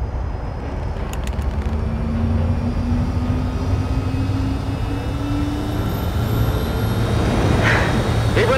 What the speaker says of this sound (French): Appuyez sur l'allumage et mettez les gaz très progressivement.